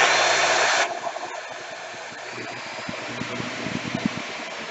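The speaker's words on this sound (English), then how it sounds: "here's our test run on the motor. I'm going to fire it up on a number 1 setting on the speed." Milwaukee 5616-20 router motor running at speed setting 1, with a loud broadband burst at startup dropping to a steady whirring hum that continues alone with faint mechanical ticks.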